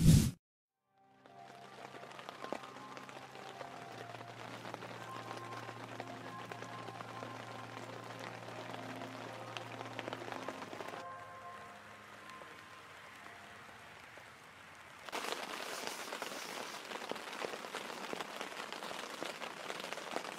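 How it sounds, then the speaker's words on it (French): Rain falls at a gravel pit fishing camp, a steady fine patter on a surface that grows denser and louder in the final stretch. "il pleut depuis 2 h du matin"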